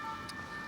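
A police siren somewhere in the Balkans, held as a faint, steady wailing tone at a distance, very brief and heard alone without talk.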